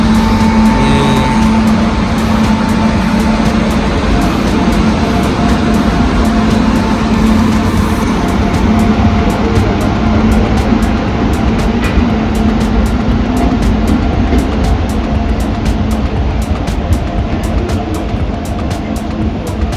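The Chennai Egmore Express roars past nearby, a loud, unbroken rumbling roar that holds for the whole stretch.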